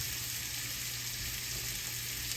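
Butter sizzling steadily in a hot pan, ready for blackening shrimp: a continuous, even frying hiss, close and moderately loud, with no talk.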